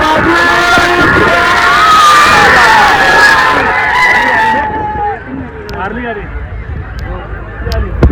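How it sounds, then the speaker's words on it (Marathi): A crowd at a bullock cart race cheers and yells loudly in a sustained roar of whoops that fades partway through, leaving scattered shouts and voices. "जल्लोष बघा"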